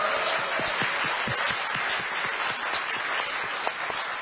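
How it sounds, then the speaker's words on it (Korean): A crowd at a People Power Party gathering applauds president-elect Yoon Suk-yeol with dense, steady clapping that holds at an even level for the whole stretch. "우리 윤석열 당선인께 큰 박수 다시 한번 부탁드립니다"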